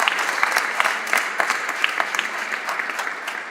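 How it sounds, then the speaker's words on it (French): An audience applauds museum volunteers at an aeronautics museum inauguration, with brisk, continuous clapping from a medium-sized crowd that stays close and fairly loud throughout. "Je vous demande d'applaudir M. Raquin et toute son équipe de bénévoles."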